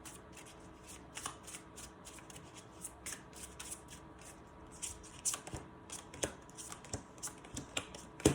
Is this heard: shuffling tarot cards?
yes